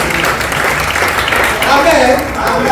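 Church congregation applauding and cheering in praise of Jesus during a French-language service, loud dense clapping mixed with voices and shouts close by, continuous for the whole stretch.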